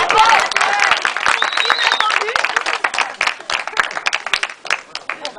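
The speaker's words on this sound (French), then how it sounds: "on peut l'applaudir de sa part." An audience applauds with dense clapping that gradually thins into scattered claps, along with a few voices in the crowd.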